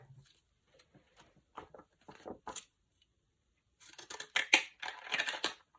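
Scissors snip around the edge of a vintage photo, leaving a border, in a few short bursts of close cutting separated by pauses, then a denser run of snips and paper rustle.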